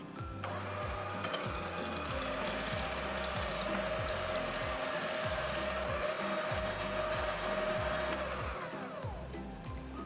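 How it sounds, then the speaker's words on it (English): Egg whites being whisked in a large bowl with an electric mixer until frothy for macaron meringue: a steady motor whir with rhythmic pulsing beats of the beaters, close and continuous, ending as the mixer winds down near the finish. "You're gonna take your egg whites and put it in a large bowl. And you're gonna start whisking it until it becomes frothy."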